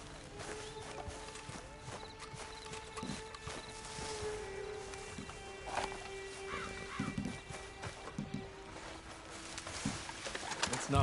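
Horse hooves clip-clop in a steady, moderately near rhythm, with occasional bird calls and a voice speaking at times.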